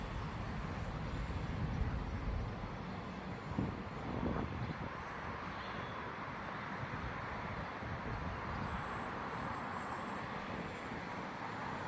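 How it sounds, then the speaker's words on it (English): Steady outdoor wind rushing against the microphone at an RC flying field where a Qidi 580 Cirrus model plane without landing gear is flown, a constant broadband roar lasting throughout with a few brief gusty swells. "It's a little windy out here."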